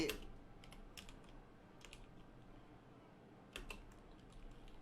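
Keys on a computer keyboard clatter in scattered quick bursts of typing, close but fairly quiet, with pauses between runs.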